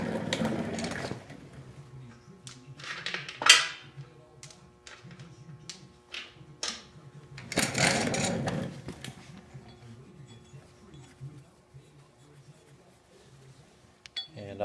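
Lug nuts being threaded by hand onto the studs of a GM 14 bolt axle, giving scattered metallic clinks and rattles with short scraping bursts, close up, and someone speaking briefly.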